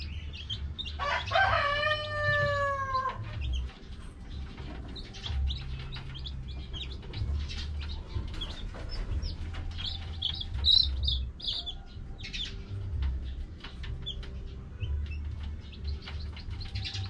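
Incubator-hatched chicks peep in high, scattered chirps while being given water, with a rooster crowing loudly near the start against a low background rumble.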